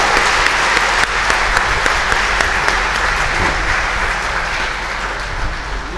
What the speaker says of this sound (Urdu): تالیوں سے حال گونج جائے